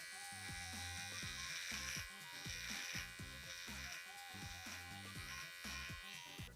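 A Trim Buddy electric shaver working across a face gives a steady, continuous buzz that holds close and loud for the whole stretch, with a rhythmic background beat running underneath.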